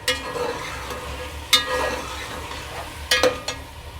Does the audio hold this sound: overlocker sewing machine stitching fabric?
no